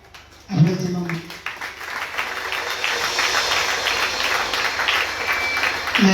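A church congregation applauds during a pastor's message, with loose clapping that builds into a steady rattle. It runs at a fairly loud level, and a voice cuts in briefly at the start and again near the end.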